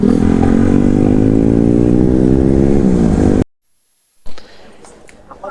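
Motorcycles on a bikers' club group ride near Kasba, Brahmanbaria, drone loudly and steadily at close range, a continuous engine roar that cuts off abruptly before faint activity resumes.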